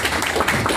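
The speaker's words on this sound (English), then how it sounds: "If you guys give him a round of applause." A brief, loud burst of thick, continuous applause from an audience at a local online marketing meetup, many hands blending into a dense wash of sound.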